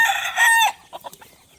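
Free-range country chickens and a rooster on a backyard poultry farm: a loud crow rings out close by, followed by several short clucks, with no talk.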